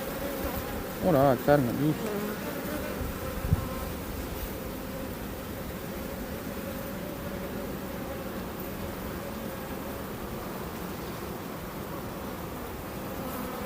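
Swarm of honey bees at an open hive during spring colony work, a dense, continuous close buzz throughout, with someone speaking softly near the start.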